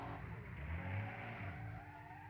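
Race car in BeamNG.drive, a 1980s-style circuit racer, loses grip exiting a corner, with a loud, steady engine drone and a rising rev over roughly two seconds, no talk.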